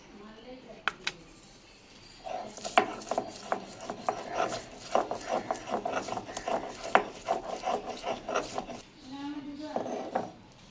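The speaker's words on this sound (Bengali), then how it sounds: "এবার আমি পেঁয়াজটা বেটে নেব।" Onion is ground by hand on a grinding stone, making a steady run of rhythmic, close scraping strokes with rasping grit that continue for several seconds.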